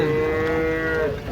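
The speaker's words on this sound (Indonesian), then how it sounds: "kedatangan sapi galak" A large, fierce cow unloading from a truck lets out one long, loud, deep moo, close and sustained, over a rumbling background.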